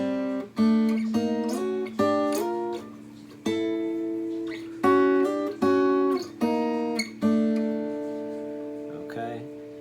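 Fingerstyle acoustic guitar playing a melody, clear plucked notes in quick runs over a bass line, close and alone with pauses between phrases.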